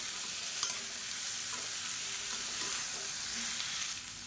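Green beans sauté in hot oil with salt in a pan, giving a steady close sizzle throughout with a few soft stirring scrapes and clicks and no voices.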